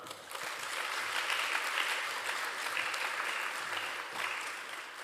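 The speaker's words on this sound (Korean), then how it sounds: "목사님 나오실 때 뜨거운 박수로 환영합니다" Warm applause from a church congregation greeting a pastor at a Sunday afternoon service, a steady, even wash of clapping that holds for several seconds at moderate distance with no talking over it.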